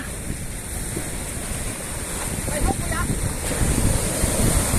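Ocean waves surge and wash continuously at Mirbat, Oman, with gusty wind buffeting the microphone, while a voice calls out briefly in the background during fishing.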